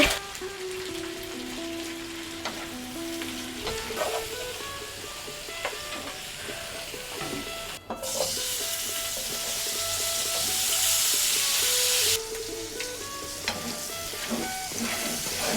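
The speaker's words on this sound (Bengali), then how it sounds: "আমি সব ভর্তাগুলোই সরিষে তেল দিয়ে বানাবো আগে মরিচটা ভেজে নিই" Chilies fry in hot mustard oil with a continuous crackling sizzle, rising to a loud hissing burst midway before settling back, with occasional stirring clinks and no voices.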